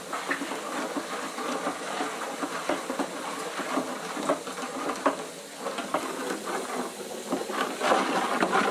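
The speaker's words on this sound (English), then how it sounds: "you just stir this until it is dissolved, until all the powder is dissolved" A small spoon stirs laundry detergent powder into melted soap in a pot, making a continuous gritty scraping and swishing with scattered clicks against the pot, steady and close throughout, with no talking.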